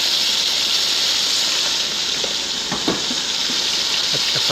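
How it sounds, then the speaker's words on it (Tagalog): Chicken pieces frying in hot oil until golden brown, cooked for Arabic maqluba, as a steady, loud, close sizzle with a few faint pops and stirring sounds throughout. "Hintayin lang po natin na mag-golden brown ang ating manok."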